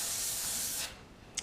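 An airbrush sprays blue-gray paint in a steady, close hiss lasting under a second, then stops, followed by one quick extra puff of air.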